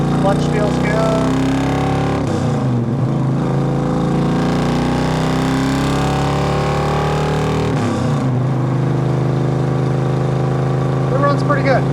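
A 1964 Chevrolet Nova with headers, dual exhaust and aging mufflers pulls away on the road, its steady engine drone rising through two gear changes, with brief dips between shifts.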